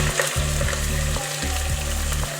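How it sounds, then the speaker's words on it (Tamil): Onions sautéing in a pan for prawn biryani, a steady loud sizzle with a low hum beneath and a few scraping stir strokes, no voices. "வெங்காயம் நல்லா வதங்கி வரணும், அது வரைக்கும் வதக்கி விட்டுக்கலாம்"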